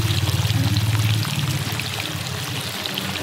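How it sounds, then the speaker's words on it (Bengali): Water from a waterfall in a hilly village area, flowing and pouring steadily close by, with a heavier gushing surge in the first second before it settles into a continuous splashing rush. "ঝর্ণার জল"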